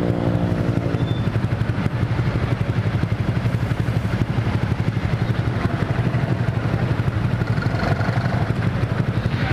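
Honda Vario 150 scooter fitted with an F2Racing CL Long aftermarket exhaust, idling with a steady, close, throbbing mid-pitched burble and light mechanical clatter, continuous throughout with no talking.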